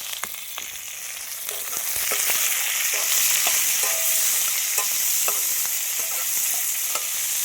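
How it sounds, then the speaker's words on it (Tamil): Onions fry with curry leaves in hot oil, a continuous loud sizzle broken by repeated clinks and scrapes of a spoon stirring the pan, with no voices. "இது கூட வெங்காயத்தை சேர்த்திக்கலாம் வெங்காயத்தை நல்லா பொன்னிறமாக வதக்கிடலாம்"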